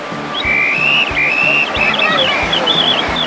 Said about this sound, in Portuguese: Ele é um apito diferente, ele faz vários sons.